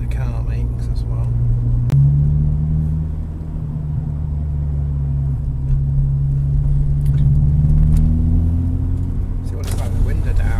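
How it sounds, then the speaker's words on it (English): Steady low engine rumble from inside a moving car, with the hum rising and falling slightly as it drives; a voice talks over it. "so I can try and get to pick up the sounds that the car makes as well"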